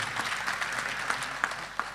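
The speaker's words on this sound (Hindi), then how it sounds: "गुंजन कला के लिए एक बार जोर शोर से ताली तो बजाई जा" Audience applause for Gunjan Kala Sadan at the Gunjan Rasrang Mahotsav cultural festival, a sustained wash of many hands clapping at moderate volume with a few sharper individual claps standing out.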